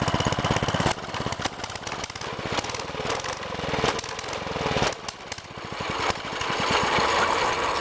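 A small mini bike engine runs on half choke, sputtering and chugging with uneven rapid firing pulses, close and loud, its rhythm faltering and picking up again without talk.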